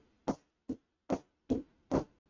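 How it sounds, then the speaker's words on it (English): Five sharp taps at close range, struck in an uneven rhythm about half a second apart, each a short dry knock standing alone against silence. "So sometimes I like to use tapping as an example."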